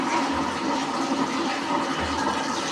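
Cumin seeds and dried red chillies sizzle in hot oil in a pan for a South Indian mutton-style urundai kuzhambu, a loud, steady, hissing crackle throughout.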